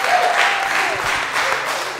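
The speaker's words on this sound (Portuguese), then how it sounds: "um forte aplauso para vocês que estão aqui hoje" Applause from a full room at a stand-up comedy show, a dense steady wash of clapping from the audience that continues throughout, fairly loud and close.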